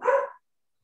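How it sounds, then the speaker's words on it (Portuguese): One short, sharp dog bark, close and loud, that cuts off abruptly into silence. "Vou parar aqui porque o cachorro está me deixando doido."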